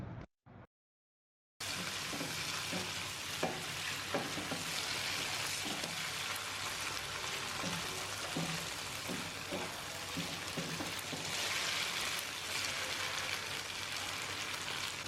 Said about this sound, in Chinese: 继续开大火快速的翻炒，把白玉菇、鸡蛋和豆腐融合在一起。